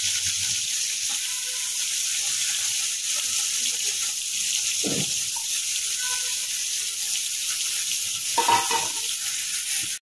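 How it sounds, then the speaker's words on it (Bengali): Fish frying in a pan in a home kitchen, a steady hiss of sizzling oil running throughout with a couple of faint clinks and stirring sounds. "ভাবলাম কি দুটো গরম গরম ভাজা মাছ দেই"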